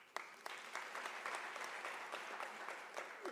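Audience clapping at a University of South Africa graduation ceremony, a moderately quiet but continuous patter of many hands with a few sharper individual claps standing out, heard briefly on its own.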